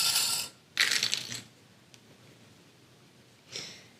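Plastic sewing clips snapped onto fabric edges while assembling a zippered make-up bag: a few short, sharp clicks and rustles spaced apart, close by and quiet, with stillness in between.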